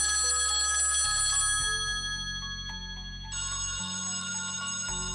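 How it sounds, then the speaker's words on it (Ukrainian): A telephone ringing as a stage sound effect in a theatre play, a steady electronic ring with bright sustained tones that shift pitch partway through, loud and close over a low synthesized drone, with no talk. "Наступного дня залунали телефонні дзвінки."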